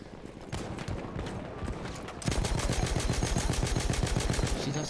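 Heavy automatic guns fire continuously in the World War I shooter Battlefield 1, with rapid rhythmic bursts that grow denser and louder midway, overlapping shots creating a chaotic battlefield din.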